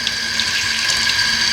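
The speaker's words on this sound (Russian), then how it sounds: "Если чуть-чуть маленький напор воды, вот такой вот маленький, то вода горячая" Hot water running from a tap at low pressure, a steady close hiss and trickle that holds constant without a break.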